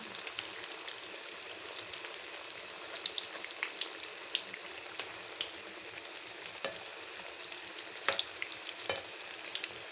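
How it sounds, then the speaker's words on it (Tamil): Chicken cutlets fry in a pan of oil, a steady quiet sizzle with a dense crackle and occasional sharper pops, close and without talk. "இப்போ இது நல்லா பொரியட்டோங்க"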